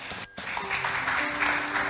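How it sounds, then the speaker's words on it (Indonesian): Wedding guests applaud, a burst of clapping after a brief pause that swells and continues to the end. "Berikan tepuk tangan."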